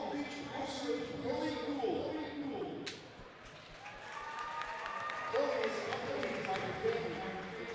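Crowd applause and cheering fill a high school varsity basketball gym between Frederick and Skyline, continuous for several seconds with a brief dip midway, and an announcer's voice carries over it.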